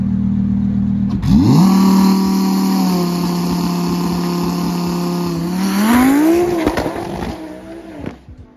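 A car engine revs hard through a loud aftermarket exhaust, rising in pitch and holding at high revs before tailing off, with a brief squeal of tires near the end.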